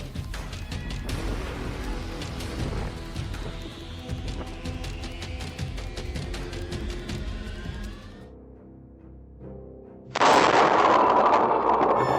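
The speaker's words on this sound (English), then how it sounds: "Lightning strike triggered terrifying electrical explosion beside the house." Loud crackling, popping blasts and bangs for several seconds, then a sudden roaring hiss, close and harsh: a lightning strike triggering an electrical explosion beside a house.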